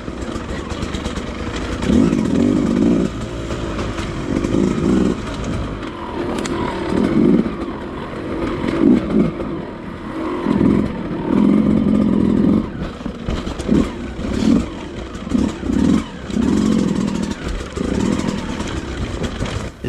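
A 2020 Beta 200RR two-stroke dirt bike ridden on slippery, rooty trails, its engine loud and close, rising and falling in repeated bursts of revving and throttle chops over nearly twenty seconds.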